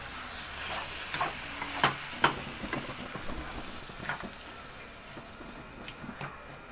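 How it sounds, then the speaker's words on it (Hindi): Mixed leftover vegetables sauté with spices in a hot pan, a soft steady sizzle broken by several sharp clacks and scrapes of a spoon stirring. The sound is close but fairly quiet, with no talking. "अच्छी तरह से मसालों में सारी सब्ज़ी को मिक्स करके सॉटे कर लें"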